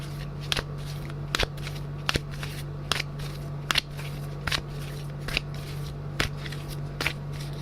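Tarot cards are shuffled and drawn in a run of sharp, crisp snaps and flicks at irregular intervals, close and distinct over a low steady hum.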